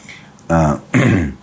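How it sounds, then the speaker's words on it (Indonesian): A man clears his throat and coughs in two harsh, close bursts after a brief quiet moment, loud against a faint room background. "Saya masih batuk jadi ini alami."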